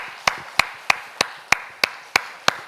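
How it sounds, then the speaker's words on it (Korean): Steady, evenly spaced claps ring out at a health lecture, sharp and close, about three per second with nothing else underneath. "서로가 서로에게 박수로 격려하시기 바랍니다"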